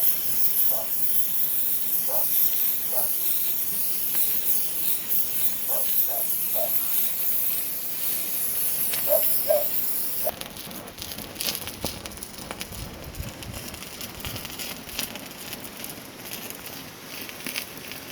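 Gold and borax are melted for refining with a steady roaring hiss of a torch flame throughout. Faint crackles and pops sit on top, and the roar shifts in tone partway through.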